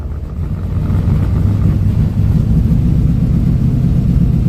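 A nitrous-fed drag race car accelerates down a poorly prepped bracket racing track, heard from inside as a loud, steady low engine roar that builds and holds.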